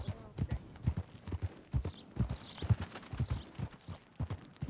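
Horse hooves clip-clopping at a steady riding gait in Red Dead Redemption 2, a regular run of dull thuds close by, with no talk over them.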